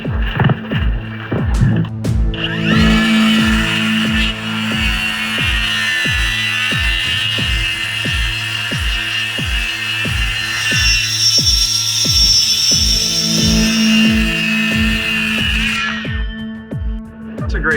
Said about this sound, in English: Today I'd like to demonstrate the power of the Flex circular cordless saw.